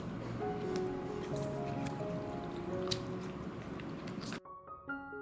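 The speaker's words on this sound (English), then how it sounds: "Wash the banana in this turmeric water to remove all the sap." Raw banana pieces are washed by hand in turmeric water, with soft splashing, squishing and dripping under a faint background hum, ending abruptly into quieter tonal noise.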